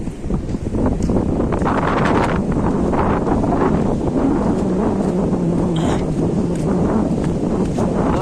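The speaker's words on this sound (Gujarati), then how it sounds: "અહીંયા પવન બહુ છે અત્યારે" Strong wind blows at the sea shore at Alang, a steady loud roar buffeting the microphone throughout with no speech.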